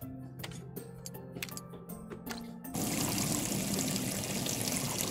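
Water pours into a brewing vessel in a brewpub simulator game: a few seconds of quiet clicks and tones give way to a loud, steady, broad rush of pouring that continues to the end.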